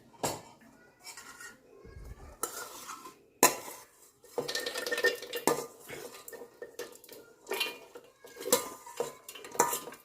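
A metal spoon scrapes and clinks against a mixer jar as ingredients for ridge gourd peel chutney are tipped in, in short, irregular bursts of close clattering separated by quiet gaps.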